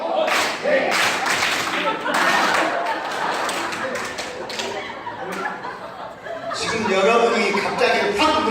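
An audience claps together during a recreation game, producing bursts of group clapping in place of spoken words, with laughter and chatter mixed in between the rounds of clapping.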